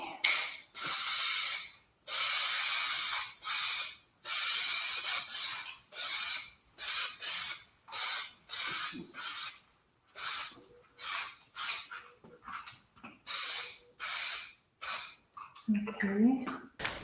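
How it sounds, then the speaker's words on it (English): Aerosol spray paint can hissing in repeated loud close bursts, each lasting about a second with short gaps between, while painting texture with stencils on a large acrylic canvas; a voice speaks near the end. "To turn the can upside down and spray it into like a garbage can to clear the nozzle."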